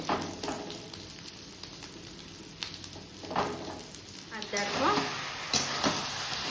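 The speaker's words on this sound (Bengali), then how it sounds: "বড়াটা ভালো মতো ভাজা হয়ে গেছে" Vegetable fritters (bora) frying in hot oil, with a steady close sizzle broken by scraping and clattering stirs that grow busier toward the end.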